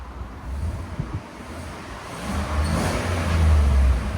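A stock-exhaust 5.3L V8 in a 2018 Chevy Silverado Z/71 idles steadily with a low, even rumble outdoors in hot weather, quiet overall, with the drone swelling slightly toward the end.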